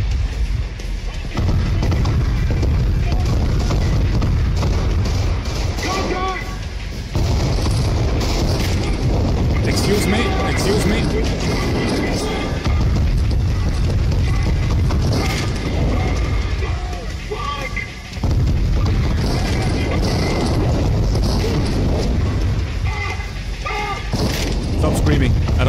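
Sustained heavy gunfire in Trepang2, loud dense volleys and booming shots pounding almost continuously with brief lulls, a voice talking over the din.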